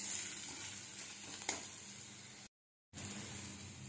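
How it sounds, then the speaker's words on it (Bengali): Red chilli and turmeric powder frying in oil, a quiet, even sizzling hiss with one faint stir tap, broken by a short gap of silence before the sizzle resumes, close and without talking. "তেলের সাথে মশলা ভালো করে মিশিয়ে নেব"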